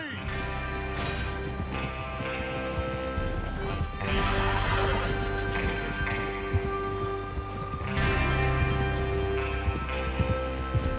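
Horses in the video game Red Dead Redemption 2 whinny and neigh over steady clip-clopping hooves and a rumbling background score, with occasional voices mixed in.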